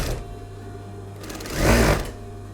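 A sewing machine runs in a short, quick burst of stitching along a dress hem, buzzing rhythmically near the end amid quieter mechanical hum.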